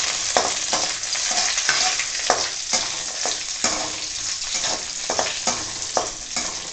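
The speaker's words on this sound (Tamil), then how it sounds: "முந்திரி பருப்பு வறுத்து வந்தாச்சு" Broken cashew nuts roast in about two spoons of ghee with a constant bright sizzle. A spoon scrapes the pan again and again throughout, and no voice is heard.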